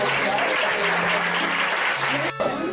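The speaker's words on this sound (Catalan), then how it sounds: "Un aplaudiment." Audience applause at a children's drawing and writing prize ceremony in a library, steady dense clapping filling the whole moment with a faint voice underneath and a brief dip near the end.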